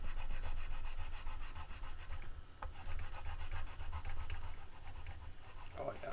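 Guitar frets on a Kramer Focus rubbed with sandpaper, a close, steady, rhythmic scratchy rasping back and forth, with brief pauses between strokes.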